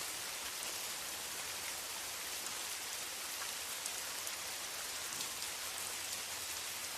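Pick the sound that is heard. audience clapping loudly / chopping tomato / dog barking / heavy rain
heavy rain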